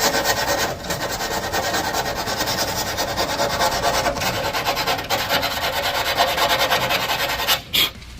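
Steady abrasive rubbing and rasping on car body sheet metal, a hole being cleaned out ahead of welding, running continuously and close before a short break near the end.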